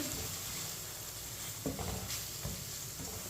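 Red chilli powder, turmeric and ground coriander are stirred into hot oil, a steady low sizzle with a couple of soft scraping strokes of the spoon in the pan.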